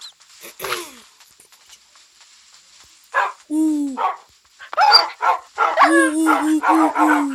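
Minecraft dogs bark, yip and howl in several bursts, with whimpering calls between them, fairly close and loud.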